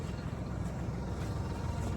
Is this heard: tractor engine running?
yes